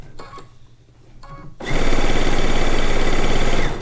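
A sewing machine pieces quilt-top fabric using leftover bobbin thread: after a few quiet clicks and handling sounds, the motor kicks in loud and close, running as a fast, even mechanical whir to the end.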